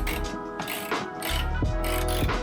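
A ratchet wrench clicks away at 10mm screws on a Proton Waja door window frame during a power window replacement, giving close, continuous metallic pawl clicking with a few heavier turning strokes and no talk.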